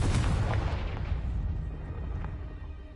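The Confringo blasting spell explodes in Hogwarts Legacy on PS5, a single heavy, booming blast right at the start whose deep rumble decays slowly over the next few seconds.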